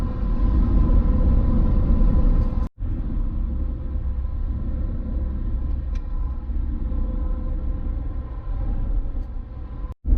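Car driving on a county or state road in Wyoming, heard from inside as a steady loud low rumble of engine and road noise, with two brief dropouts.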